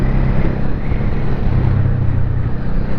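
A Honda Shadow motorcycle with XR650 handlebars and a slightly sticking throttle runs on the road, its engine a loud, close, continuous rumble with gritty low-end pulsing and no breaks.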